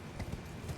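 Horse hooves clip-clop in Elden Ring, a quick run of soft, muffled steps over a low, steady game background, close but fairly quiet.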